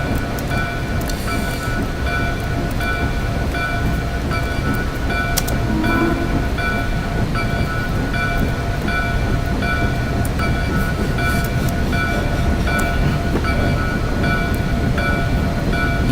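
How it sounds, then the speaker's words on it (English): Union Pacific 4014 steam locomotive pulls out of Oroville for Portola through the Feather River Canyon in the Open Rails train simulator, a loud, steady, dense rumble and hiss sustained throughout, with no talking. "Union Pacific 4014 now departing Orville for Portola."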